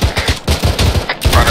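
Rapid automatic gunfire rings out in the military shooter Arma 3, loud bursts of closely spaced shots with brief pauses between volleys.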